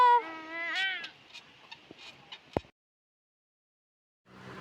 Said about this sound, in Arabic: يا قطة.